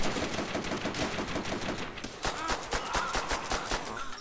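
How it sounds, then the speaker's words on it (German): Rapid gunfire in Call of Duty: World at War, aimed at the player, as dense automatic bursts and repeated shots running steadily throughout, loud and close, with no talk. "wie sie alle nur auf mich ballern"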